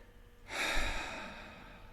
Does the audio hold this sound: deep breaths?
yes